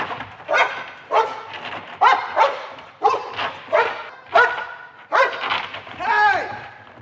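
A dog barks repeatedly during protection training, a run of loud, evenly spaced barks close to the microphone, roughly one every half second or so.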